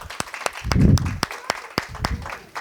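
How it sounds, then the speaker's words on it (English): A classroom conference audience claps for two children, a few loud distinct hand claps standing out over a softer scattered patter, with some voices briefly mixed in. "should we all clap for AJ and Peyton?"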